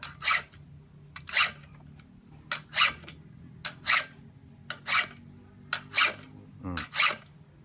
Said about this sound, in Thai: ดูเสียง ดูเสียง เดี๋ยวตะไบ